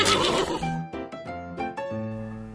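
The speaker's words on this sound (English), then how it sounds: "The horse is the domesticated one-toed hoofed mammal." A horse lets out a single loud, close whinny that breaks into a few shaky, quavering pulses before fading, with no other sounds around it.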